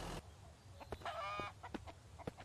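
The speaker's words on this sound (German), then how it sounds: "Auch nochmal eine Henne." A hen in the survival game MIST Survival clucks several times in short, sharp bursts, fairly close and alone over a low background hum.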